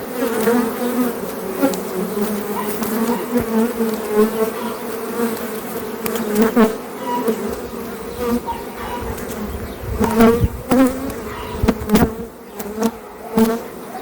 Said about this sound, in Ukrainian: На пасіці гул стоїть.